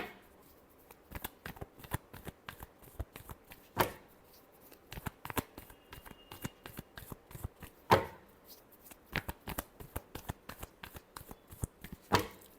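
Tarot cards are shuffled by hand in a steady run of quick riffling bursts, with sharper slaps around four, eight and twelve seconds, close and fairly quiet with no talk.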